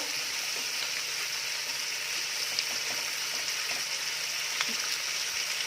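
Two potatoes fry in hot oil in a pan while chicken with sesame is being cooked. A steady, dense sizzle holds for the whole stretch, with faint occasional pops and clicks and no talking.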